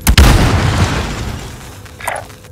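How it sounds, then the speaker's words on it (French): A stun grenade goes off with a loud, sharp boom in the Warzone battle royale game, followed by a decaying rumble and a brief high electronic chirp near the end. "Je lance une grenade paralysante."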